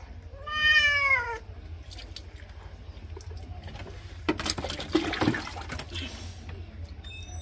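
A cat being bathed lets out one loud, drawn-out meow, then water splashes and sloshes in bursts as it gets washed.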